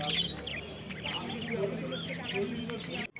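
Cockatiels, including lutino and black ones, and budgerigars chirp in a crowded bird market. Their busy twittering is mixed with low market murmur and someone speaking nearby, and ends abruptly.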